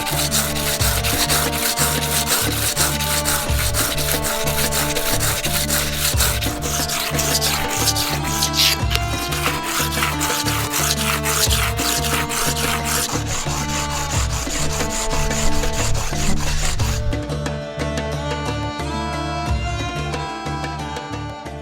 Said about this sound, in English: I will start grinding each piece down into a thinner slab in order to make beads